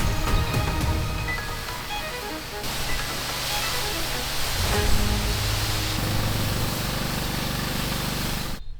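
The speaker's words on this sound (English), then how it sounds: "the last job for today is to give everything a good rinse down" Hose water rinsing down wooden decking: a steady, loud rushing spray hiss that carries on unbroken, close by and with no talk over it.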